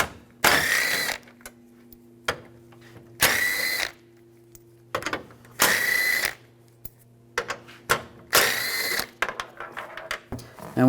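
Ratchet with a 10mm socket backing out grille screws on a 2007-2013 Chevrolet Silverado, four loud bursts of rapid clicking separated by pauses and small handling clatter, close up with no talk.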